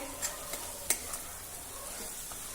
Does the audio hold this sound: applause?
no